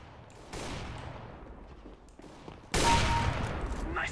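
Gunfire in Counter-Strike: Global Offensive, a few sharp shot bursts at moderate volume with one louder blast near the end, no talk over them.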